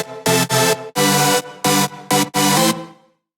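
Looped song pattern with a pumping, rhythmic ducking effect: dense chord blocks cut into short bursts and gaps, six or so chopped swells in a steady rhythm before fading out, loud and with no voice.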